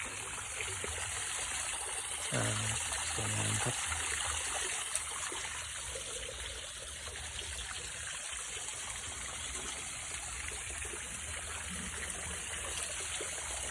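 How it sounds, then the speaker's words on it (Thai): A decorative waterfall runs under a remote IoT switch, pouring steadily with a constant close splashing rush of water that holds even from start to end, with a couple of brief low thumps early on. "นี่ก็เป็นน้ำตกนะครับ"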